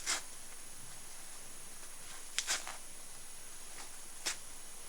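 A few short ripping and tearing sounds of fabric pulled apart by hand, sparse bursts over a quiet background, fairly close.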